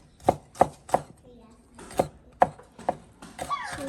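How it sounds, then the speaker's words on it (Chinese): A knife chops fresh toon sprouts on a cutting board in sharp, distinct strokes, roughly seven clear knocks at an uneven pace, close by with no other sound behind them. "切細細的啊。"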